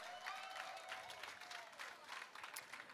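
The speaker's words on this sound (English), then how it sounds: "give them a round of applause, please." A crowd at the Dunrobin Prep graduation applauds the class of 2023 with steady, fairly faint clapping that holds for the full three seconds, a voice briefly audible beneath it.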